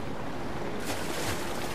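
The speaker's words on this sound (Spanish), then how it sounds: "Estamos cerca de la cascada." Continuous broadband roar of rushing water from a waterfall in Zelda: Breath of the Wild, loud and near, swelling slightly midway, with no voices.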